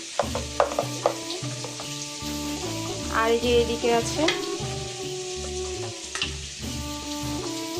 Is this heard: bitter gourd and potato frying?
yes